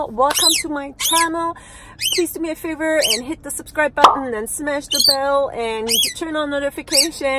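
A pet bird chirps and squawks in short sharp bursts throughout, close by and partly under someone talking steadily, with a few rapid clicking notes mixed in.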